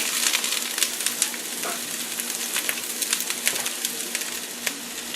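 Green and red peppers with onions sizzling steadily in a hot pan, a dense continuous crackle and spatter close up with small pops throughout, no talking.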